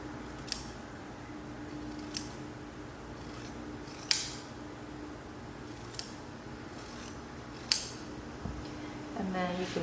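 Scissors snip the fabric corners of a sewn bomber jacket in a few sharp, spaced clicks against a quiet room, with a soft rustle of fabric at the end.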